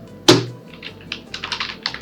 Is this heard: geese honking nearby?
no